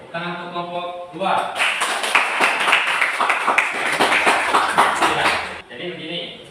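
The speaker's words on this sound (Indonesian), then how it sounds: "tepuk tangan untuk kelompok 2" Classroom applause for a student group, a burst of many hands clapping that swells after a brief pause and carries on steadily for several seconds, with voices murmuring underneath.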